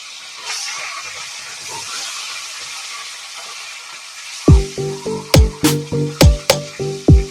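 Fish frying in hot oil gives a soft, steady sizzle and hiss for several seconds. A run of loud, rhythmic tonal bursts then cuts in over the frying.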